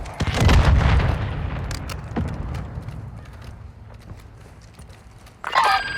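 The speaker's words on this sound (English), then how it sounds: "Mortar strike inbound." Mortar strike explosions in the Warzone 2 video game: a heavy rumbling boom at the start fades into scattered cracks and distant thumps, then another sharp burst near the end.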